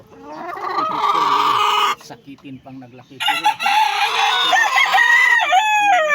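A fighting rooster crows loudly and close by, then clucks briefly, and crows again; a voice speaks in between.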